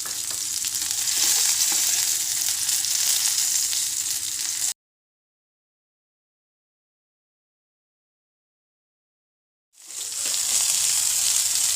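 Pomfret coated in green and red spice paste frying in a little oil, giving a loud, continuous crackling sizzle that cuts out to silence midway, then resumes just as strongly.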